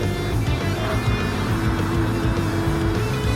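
Tom's Castrol Supra race car in Gran Turismo 7, a loud, steady engine drone throughout with a rough low rumble and no voices.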